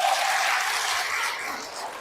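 An audience at a Catholic priest's talk applauds in a short, dense burst of clapping that gradually fades, with no voices over it.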